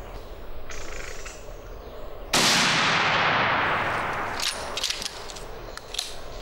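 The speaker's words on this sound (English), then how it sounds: "The shot was good." A single rifle shot at fallow deer during a driven hunt cracks sharply and loud, then echoes away across the countryside, while birds chirp faintly before and after.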